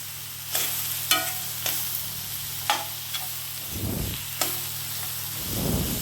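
Brinjal stir-fried with chilli powder in a pan: a soft sizzle under repeated sharp scrapes and taps of a spatula against the pan, with a low steady hum beneath.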